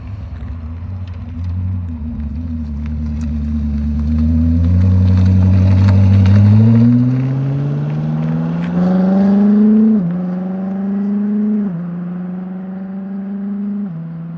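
A Koenigsegg supercar, seen near the Swedish factory, approaches with a deep rumbling engine that swells into a loud, rising rev as it nears and passes, then eases off with a couple of gear-change dips as it pulls away.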